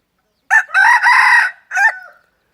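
A Thai fighting rooster crows loudly and close by, one long drawn-out call followed by a short final note, with no other sound around it.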